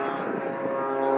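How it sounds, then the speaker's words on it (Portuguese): A small airplane, toy-like in size and sound, drones with a steady buzzing engine note for a brief moment, moderately loud and unbroken. "Parece um aviãozinho de brinquedo, né?"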